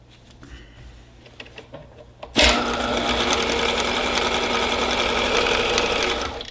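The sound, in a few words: sewing machine stitching a hot pad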